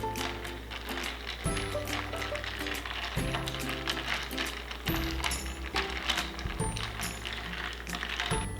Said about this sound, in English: use a spoon to gently stir and mix everything in